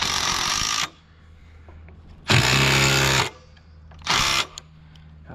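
A power driver tightens bolts on fiber optic rung locks for an aerial flat drop guide, three close loud bursts of whirring, the first and second longer, the last short, with quiet gaps between.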